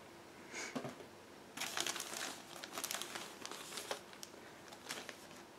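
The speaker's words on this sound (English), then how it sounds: "I will remove all those parts out of the plastic bag" A plastic bag holding 1/32 scale model kit parts crinkles and rustles in bursts, close by, starting with a brief rustle and then continuing as repeated crackly handling.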